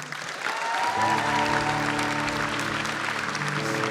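An audience bursts into sustained applause at a student awards event, building quickly and holding steady while sustained music tones play underneath.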